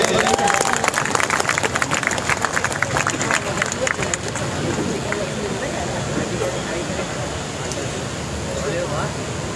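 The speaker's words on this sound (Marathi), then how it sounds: "या महिलांसाठी जोरदार टाळ्या होऊन जाऊन देत" Applause and cheering from the crowd at a women's physique contest in Mumbai, loud clapping at first that settles into a dense, sustained crowd roar with a few whistles.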